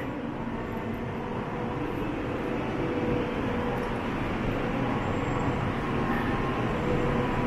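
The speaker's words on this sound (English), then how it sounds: "This is the old type of a train. It's painted in green color." An old green Chinese passenger train runs on the slow route from Shanghai to Taiyuan, Shanxi, heard from on board as a steady, dense rumble and rattle that holds at an even level throughout; no voices.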